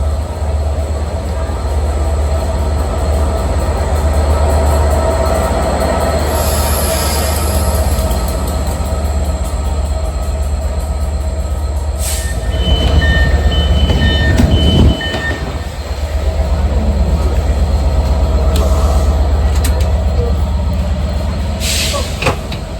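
Steady low rumble of a train in motion, with rail clatter and a brief squeal midway, heard from inside a carriage.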